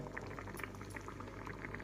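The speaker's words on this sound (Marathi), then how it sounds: "आता ह्याला उकळी यायला लागली" Amaranth leaf sambar simmering at a rolling boil in a pot, with continuous close bubbling and popping; no voices.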